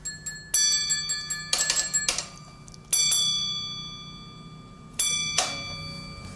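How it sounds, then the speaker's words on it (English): A railway signal box bell rings in coded groups: quick runs of bright metallic strikes, then single rings spaced apart, each leaving a clear ringing decay in a quiet room. "Martin communicates with signal boxes up the line by bell."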